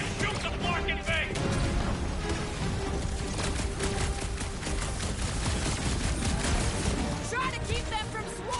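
Gunfire rattles in a battle in the Guardians of the Galaxy game as a character shoots at a clamp. Rapid shots and metallic clatter run continuously beneath loud, busy character talk and clashing action.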